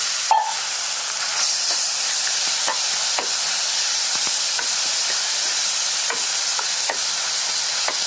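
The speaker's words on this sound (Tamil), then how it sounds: "தக்காளி நல்லா லேசாக வதங்கினா போதும்." Mashed tomatoes sautéing in a pan for Tamil-style mango rasam, a steady close sizzle and hiss running throughout, with a few soft stirring scrapes and no talk.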